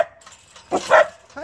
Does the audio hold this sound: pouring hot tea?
no